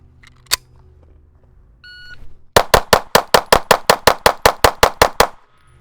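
An MR920P pistol fitted with a factory compensator fires a rapid string of about fourteen loud, evenly spaced shots at close range, after a brief electronic beep and a single earlier click.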